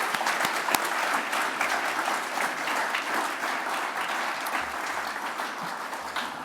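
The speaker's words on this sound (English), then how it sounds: "Please, a big round of applause." Steady applause from an audience at a whānau development summit, a dense even clatter of many hands clapping throughout without a break.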